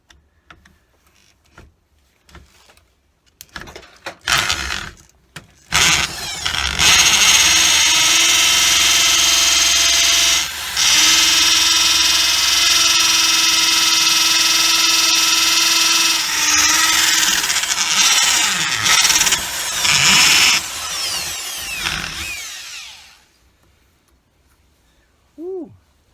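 Electric power carving tool grinding a wooden kuksa cup, a loud sustained whine running for most of the stretch with short breaks and changes in load, then cutting off.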